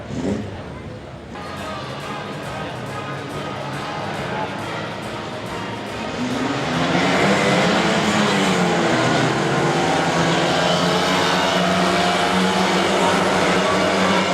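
Race cars pulling away at a restart, engines building from a steady drone into a loud, rising roar that sweeps and holds under continuous commentary.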